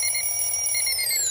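An alarm clock rings loudly and continuously with a bright, steady metallic tone whose pitch sags slightly at the end, and no one speaks.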